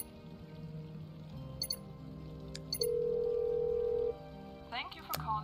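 Phone ringing in the Nancy Drew game Mystery of the Seven Keys: a steady electronic ring tone holds for about a second, with beeps and a voice on the line before and after it.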